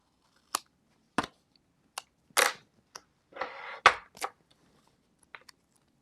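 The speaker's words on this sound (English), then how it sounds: "So here I am using the scissors." Scissors cutting, likely paper or cardstock while die-cutting, giving a series of sharp, isolated snips spaced apart in a quiet room, with one longer rasping cut.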